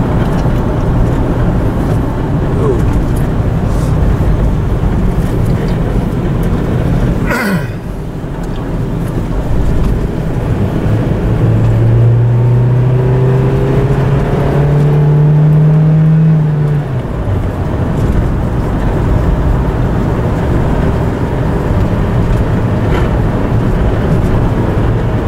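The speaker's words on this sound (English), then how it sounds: "Nice peppy four-cylinder engine." A 2001 Toyota RAV4 four-cylinder engine runs steadily from inside the vehicle, a continuous low drone with a brief revving rise midway and some faint talk underneath.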